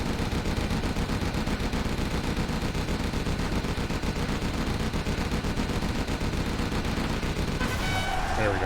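Constant rapid gunfire and heavy weapon bursts fill a military video game battle, loud and unbroken, with a denser crackling spray of shots near the end.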